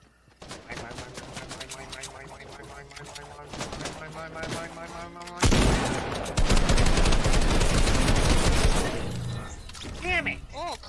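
Fortnite gunfire: loud rapid bursts of weapon fire and shattering impacts in a hectic fight, with a player's voice shouting over the action.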